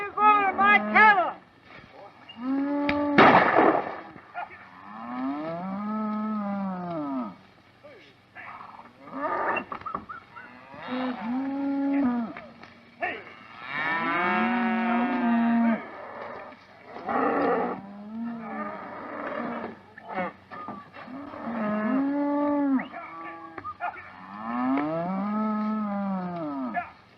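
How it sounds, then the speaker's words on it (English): Several long, low cattle moos, one after another with short pauses, loud and close, with a brief sharp clatter early on. "Where are you going with my cattle?"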